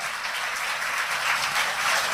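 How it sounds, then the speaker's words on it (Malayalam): An audience at a school admission festival inauguration claps for a prize-winning student, giving a steady, fairly even burst of applause across two seconds with no talk over it. "അംന ബഷീറിന് വേണ്ടി എല്ലാവരും നല്ല ഒരു കയ്യടി കൊടുക്കുക"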